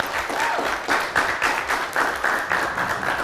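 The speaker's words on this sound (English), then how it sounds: "let's give all our sponsors a big round of applause" An audience at the Beer & Bites 2.0 live fundraising event applauds its sponsors, a lively roomful of clapping that stays loud and steady with a few cheers mixed in.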